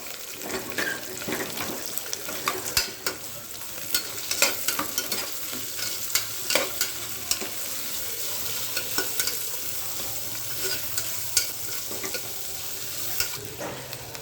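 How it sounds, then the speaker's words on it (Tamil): Large onions fry and sizzle in a pan while a utensil stirs them, with irregular scraping and clattering strokes over a steady crackling hiss, close and fairly loud with no talking. "இதில் பெரிய வெங்காயம் போட்டுக்கலாம் சேர்த்து மிக்ஸ் பண்ணி விட்டுக்கலாம்"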